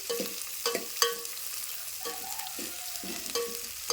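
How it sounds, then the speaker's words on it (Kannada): Onions fry in a pan on medium flame for kushka rice, a soft sizzle broken by repeated clinks and scrapes of a spoon against metal, close and clear with no voices. "ಹಾಕೊಂಡ ಚೆನ್ನಾಗಿ ಫ್ರೈ ಮಾಡ್ಕೊಬೇಕು ಇವು ಫುಲ್ ಗೋಲ್ಡನ್ ಕಲರ್ ಬರೋ ತನಕ ಫ್ರೈ ಮಾಡ್ಕೋಬೇಕು"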